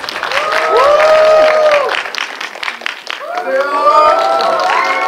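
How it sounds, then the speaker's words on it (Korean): An audience applauds at a film screening stage greeting at Lotte Cinema World Tower, with loud, dense clapping and mixed cheers and voices running throughout and dipping briefly midway. "박수 부탁드립니다 고맙습니다."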